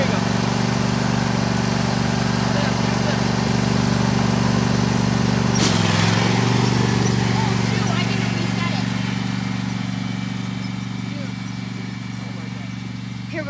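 A racing lawn mower engine idles in a steady, loud low drone while its throttle is adjusted, with a sharp clack and a brief dip in pitch midway before settling and slowly easing off; people talk nearby over it.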